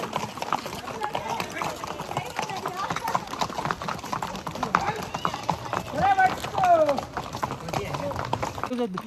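Horse hooves clip-clop in a steady rhythm under ongoing conversation in Matheran, with people talking over the trotting throughout.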